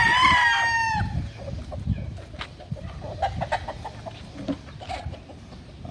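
Chickens on a Philippine breeder farm, a rooster crowing loudly and close for the first second, then scattered clucks and rustling from the flock with steady low background noise.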